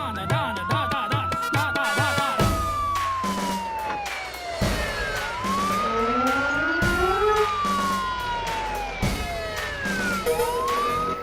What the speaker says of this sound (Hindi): पुलिस के जीप की सायरन है।